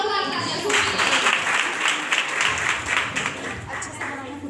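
Applause and clapping from a crowd at a college farewell party after a dance, a steady patter of many hands heard at moderate distance with voices mixed in.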